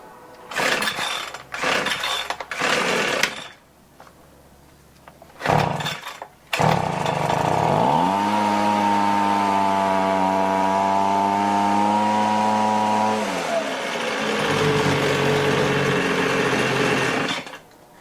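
A Toro leaf blower with fresh fuel sputters through several short bursts, then catches and runs loud and close at a steady, strained pitch, dipping slightly but never climbing to full power.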